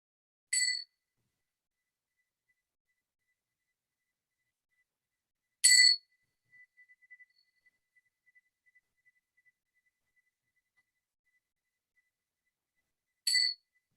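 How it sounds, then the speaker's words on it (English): Three bright bell strikes ring out at the start of a meditation session, spaced several seconds apart, each a clear metallic ding with a short fade into near silence. "So when I ring the bells, that's us going into practice."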